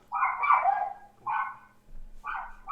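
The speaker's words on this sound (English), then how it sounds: "It sounds like Vinny is putting the dog out." A dog barks nearby in three separate bursts, each a short run of barks with pauses in between, heard alone with no speech.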